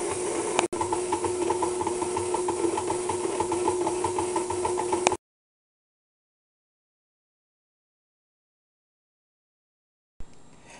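A kitchen stand mixer running at speed 2 on cranberry dog treat dough gives a steady, close motor whir with a constant hum for about five seconds. It stops abruptly, silence follows, and the whir briefly returns at the end.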